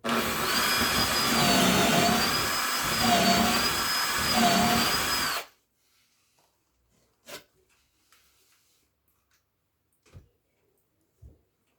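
A drill bores through steel while building a spiral staircase, a loud, steady whine close by for about five seconds. It then stops abruptly, and a few faint knocks follow in near silence.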